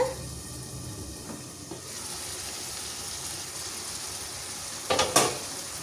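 Chicken curry with potatoes and a chicken stock cube fries in a pot with a steady sizzle and soft stirring scrapes, and a couple of sharp utensil clanks come near the end.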